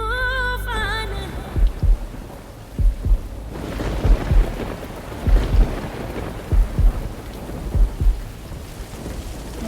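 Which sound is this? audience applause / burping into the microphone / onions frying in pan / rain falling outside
rain falling outside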